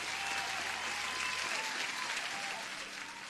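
Steady applause from a crowd of listeners on a live futures and forex trading session, dense and continuous clapping heard alone for a few seconds.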